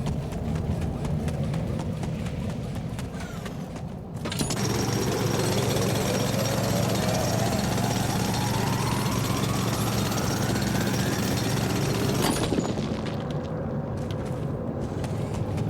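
A mining drill boring through rock in the video game The Alters: a loud, steady mechanical grinding roar that starts abruptly, holds with a slowly rising whine for about eight seconds, then cuts off, while a voice talks over it.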